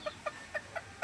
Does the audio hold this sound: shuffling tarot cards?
no